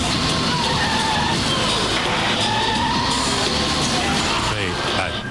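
Car tyres skidding and squealing during a grip test for Hankook tyres, a loud, continuous screech with engine noise and a steady, busy roar throughout.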